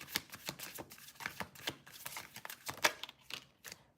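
A tarot deck is shuffled and cards are drawn, giving quiet, close riffling flicks and soft card slaps in quick irregular bursts, with no talking.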